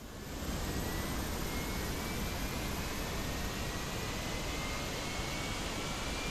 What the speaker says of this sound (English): let's start engine number 2